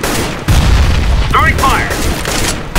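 A grenade lands and bursts in the first-person shooter Counter-Strike: Global Offensive, a loud thumping blast followed by rumbling gunfire-like noise and brief synthetic whooshes throughout.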